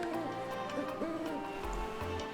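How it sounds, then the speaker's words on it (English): Owl hooting in the Paper Mario: The Thousand-Year Door video game during an ocean voyage scene, a few soft, low hoots sounding over looping game music with no talking. "Where are we hearing an owl in the middle of the ocean?"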